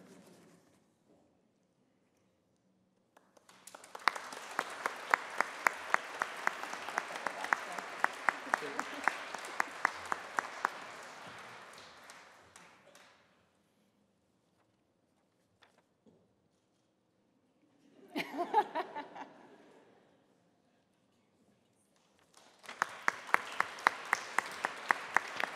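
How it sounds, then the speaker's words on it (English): Bursts of audience applause at an awards show, a long stretch of clapping that fades, a short murmur, then another round of clapping starting up. "You're so excited, you're already clapping."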